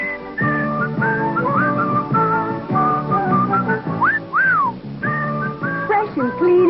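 A bright, tuneful whistled melody from a 1985 Irish Spring soap commercial, loud and close, with quick trills and sliding notes and no talking.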